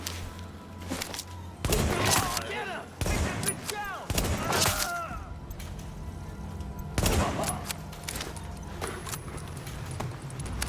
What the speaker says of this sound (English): Go ahead and switch over to my sniper rifle here. Let's do some pot shots here.